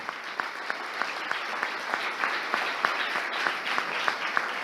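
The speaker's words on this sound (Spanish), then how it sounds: "un fuerte aplauso a esos compañeros y compañeras de la seccional La Plata" Dense, steady applause fills the hall at the opening of a bank workers' union national congress, saluting comrades of the La Plata section; many hands clap together at an even volume throughout with no voices over it.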